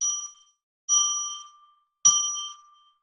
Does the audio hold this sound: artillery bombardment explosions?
no